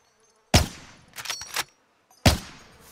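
Gunshots in the Warzone Caldera video game: three sharp close reports, one at the start, a quieter quick pair after it, and a final loud crack, each standing alone in near silence.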